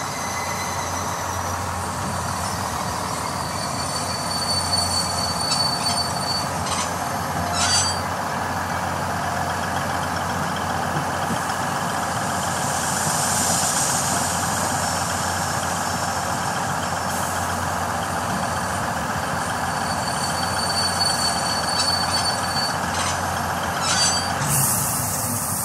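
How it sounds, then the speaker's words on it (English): Train rolling into a town in the Worms 4: Ultimate Mayhem game, a steady rumbling engine drone with hissing air-brake bursts and high squeals, continuous and fairly loud throughout with no talking. "The train is pulling into town."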